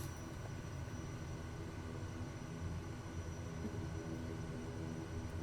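A steady, faint engine drone from a light aircraft on a bush strip in Microsoft Flight Simulator, an even hum that holds constant throughout without voices.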